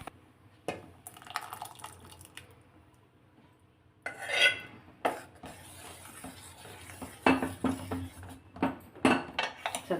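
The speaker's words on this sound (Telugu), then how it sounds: "ఇప్పుడు పెసరపప్పు ఆ సగ్గుబియ్యంలోకి కలిపేద్దాము" Cooked moong dal being stirred into softened sago for payasam in a pot, with scraping spoon strokes, wet clinks against the vessel and soft liquid sloshing, growing busier and louder in the second half.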